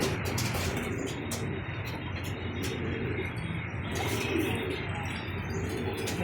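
Homing pigeons in a loft coo softly and repeatedly against a quiet background, with a few faint chirps mixed in.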